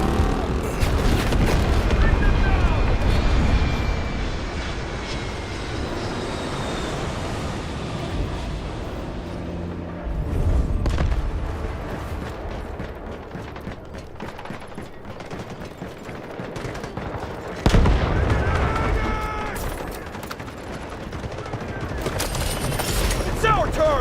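Gunfire and explosions in the video game Delta Force, dense bursts of shooting and heavy booms rolling over about twenty seconds, with loud surges and quieter lulls, under occasional talk.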